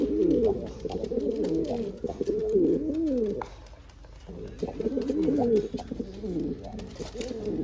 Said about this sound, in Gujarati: બે ત્રણ કબૂતર હજી ઉડે છે.